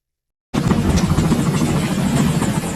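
A steady, loud rotor-and-engine drone of a helicopter, continuous and close, with no talking.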